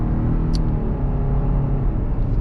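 A 2021-2022 Subaru Outback Touring XT with its 260-horsepower engine accelerates hard on a night drive, steady loud engine and road rumble from inside the cabin, building without a break.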